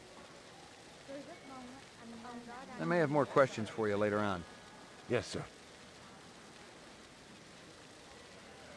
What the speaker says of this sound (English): It's actually surprising how loud the rain is